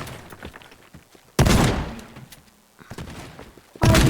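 Gunfire in the video game Teardown: two loud, sharp blasts several seconds apart, each with a short echoing tail, and quieter clatter in between.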